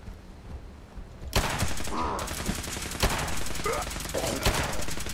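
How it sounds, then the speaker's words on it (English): Laser rifle fire in the video game Fallout 76, a loud burst of rapid repeated shots that starts abruptly and keeps going, with sharper peaks standing out among the volley. "Tear him apart with that laser rifle."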